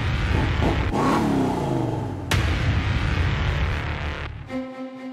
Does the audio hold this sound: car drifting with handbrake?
yes